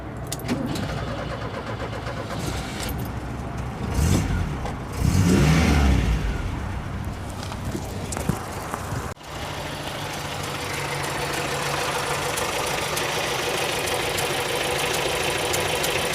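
A 1967 Audi 80 Variant engine cranks and catches, revving briefly before settling into a steady, quiet idle heard from inside the car, with a short clunk partway through.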